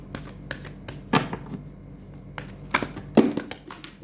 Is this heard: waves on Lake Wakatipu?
no